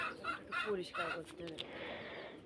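Chickens cluck and chatter inside a chicken house in several short bursts close by, while a person talks over them.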